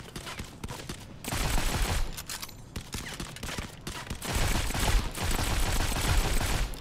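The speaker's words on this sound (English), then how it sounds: "Someone is shooting at me." Sustained rapid gunfire in the mobile shooter Modern Combat 5, with dense, loud bursts that stop briefly and then resume, heard alone without any talk.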